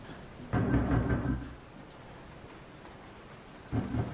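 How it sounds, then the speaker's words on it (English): Knocking on a door in the horror game Resident Evil 7: two separate heavy, dull thumping bursts, one lasting about a second early on and a shorter one near the end, over a low ambient hum. "Stop fucking knocking!"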